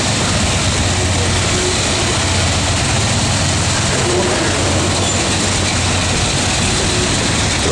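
A CSX freight train led by CW44 AC locomotives rolls beneath the I-485 overpass near Mount Holly, a loud, steady rumble of wheels and cars that stays continuous throughout, with faint squeals riding over the low roar.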